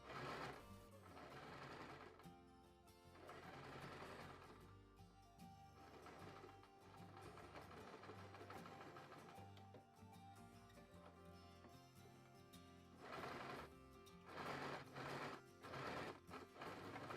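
A domestic sewing machine topstitches fabric 2 mm from the edge for a notebook cover, its fast rhythmic needle hum running in several continuous bursts with short pauses between, close and steady throughout.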